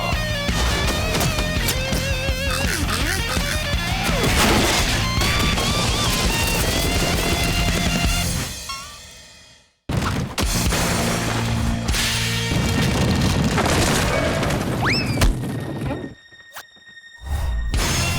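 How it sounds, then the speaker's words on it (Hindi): Cartoon explosion and crash in a Hindi-dubbed Kick Buttowski episode: dense, loud crashing and blasting noise runs continuously, breaks briefly into near silence, then resumes with further loud impacts and clattering. "धमाका।"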